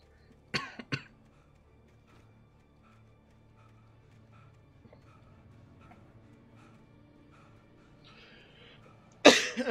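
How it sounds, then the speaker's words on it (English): Two sharp, close coughs near the start, then a quiet stretch of faint background murmur before a louder burst of coughing or throat clearing at the very end. "I'm sorry if I cough."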